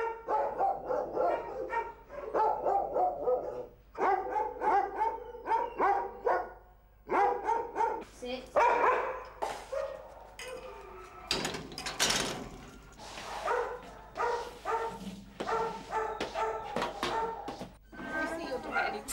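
Dogs barking at Battersea Dogs Home, a busy London rescue kennel, with scattered barks heard beneath a steady narrating voice.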